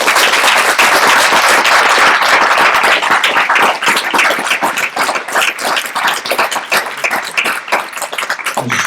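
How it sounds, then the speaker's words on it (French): An audience at a conference applauds the speakers, dense and loud clapping from many hands that holds steady, then thins and softens slightly toward the end, with no speech over it. "On peut les applaudir."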